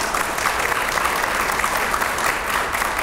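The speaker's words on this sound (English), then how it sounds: "Please give him a huge round of applause." Audience applause at an opera lecture evening, a thick, even wash of clapping from a sizeable crowd that holds steady throughout.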